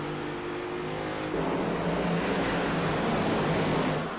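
An iRacing race car's engine surges in a steady, loud sustained roar, its pitch shifting upward partway through as the car pushes on during a battle for position.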